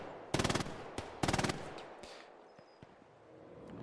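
Two short bursts of rapid machine-gun fire ring out close and loud in the Hell Let Loose game on the Hill 400 map, each a tight rattle of a handful of shots, followed by scattered distant gunfire and battlefield rumble.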